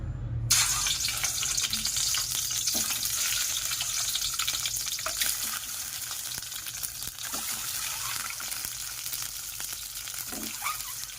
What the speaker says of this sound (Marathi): तापलेले आपले कढई त्यामध्ये थोडं तेल टाकायचं आणि अंडे सोडायचे लगेच